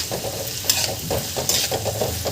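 Potatoes, fenugreek and tomato are sautéed in a pan, a close sizzle broken by repeated scraping stirs at a loose, regular pace, with no talking.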